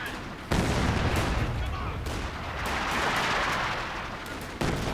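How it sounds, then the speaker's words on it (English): Howitzer artillery and other gunfire in a Company of Heroes-style strategy match, with sharp loud reports at the start and near the end over a continuous rumble of distant battle. "Howitzer doing work."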